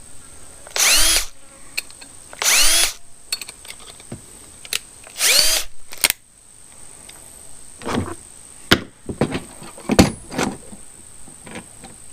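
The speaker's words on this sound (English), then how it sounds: "I don't know if this drill bit's big enough" A power drill boring a large hole for a trail camera battery box runs in three loud bursts, each spinning up and winding down, followed by scattered shorter clicks and brief whirs.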